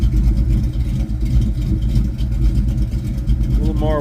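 A 1972 Ford Mach 1 V8 with a Super 10 exhaust rumbles loud and close, a deep throaty burble with a steady pulsing idle throughout the short stretch.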